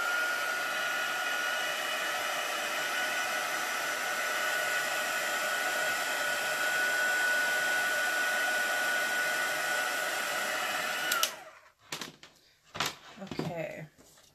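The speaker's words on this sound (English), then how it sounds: "I'm just going to dry this ink a little bit." A handheld heat dryer drying ink for card-making runs as a steady, close, whining blow for about eleven seconds, then switches off, followed by clicks and handling noises on a craft table.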